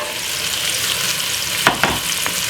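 Mixed vegetables frying in oil with garlic in a pan for a Jamaican jerk pasta stir fry, giving a loud, steady close sizzle broken by a couple of brief stirring scrapes near the end.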